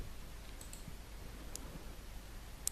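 Computer mouse clicks while working in SPSS, a few faint, sharp single clicks spread over a quiet background hiss, the last one slightly louder.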